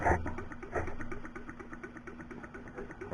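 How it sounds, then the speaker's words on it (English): A small horizontal Stirling engine runs steadily nearby, giving an even, rapid mechanical chuffing with a constant hum and no talk over it. "watching these little engines run"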